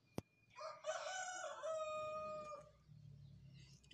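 A single rooster crows in the Avatar World video game, one clear cock-a-doodle-doo lasting about two seconds after a sharp click, fairly close and alone against a faint background.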